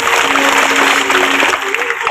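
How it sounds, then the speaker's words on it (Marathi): Audience at a musical Shiv Mahapuran katha celebration gives a brief burst of clapping, fairly loud, mixed with a voice and a sustained musical tone. "त्या संपूर्ण मंडळींसाठी एकदा जोरदार टाळी"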